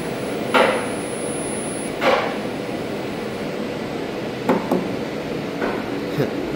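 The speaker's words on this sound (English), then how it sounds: "I love the brake sounds on these." Brake on a brand-new TKE traction elevator machine in the machine room of a high-rise of nearly 20 floors, formerly geared, giving several short sharp clacks at irregular intervals over a steady hum.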